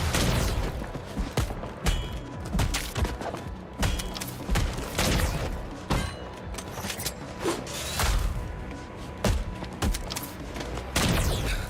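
Enemy gunners in the video game Replaced fire repeated bursts of gunshots and booms. The loud, sharp cracks come in irregular volleys throughout.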